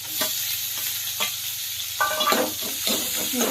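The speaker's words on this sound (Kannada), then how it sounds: "ಇದನ್ನ ಫ್ರೈ ಮಾಡ್ಕೋಬೇಕು ನಾವು." Onion and tomato fry loudly in a pan for village-style palak sambar, a constant close sizzle broken by scraping stirs and a few sharp spatters.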